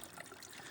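A small stream of water trickles faintly and steadily at a backpacking camp on a cliff edge in Alaska's Wrangell-St Elias wilderness, a soft continuous wash with no voices.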